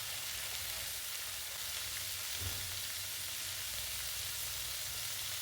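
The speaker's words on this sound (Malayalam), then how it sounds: "അതിനുശേഷം നമ്മൾ കഴുകി വെച്ചിട്ടുള്ള പയർ ചേർത്ത് കൊടുക്കുക. ഒന്ന് ഇളക്കി യോജിപ്പിക്കുക." Washed green beans for Kerala-style payar thoran are tossed and stirred in a hot pan, giving a steady, moderately loud sizzle with a faint stirring scrape midway and no voices.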